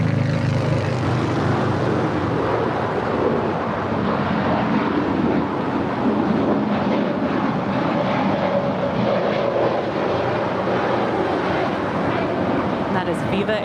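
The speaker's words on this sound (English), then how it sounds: "That is Viva Aerobus 511 to Guadalajara. It's a 3-year-old A320." A three-year-old Viva Aerobus Airbus A320, flight 511 to Guadalajara, takes off at LAX with a loud, continuous engine roar and rumble; a voice talks faintly underneath.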